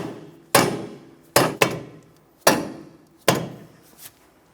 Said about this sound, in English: Using a soft face hammer, tap the bolts into place.